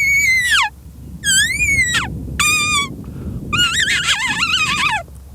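A hunter in Botswana blows a predator call that imitates a small mammal in distress: four loud, shrill, wavering squeals with short gaps between them, over a low background rumble.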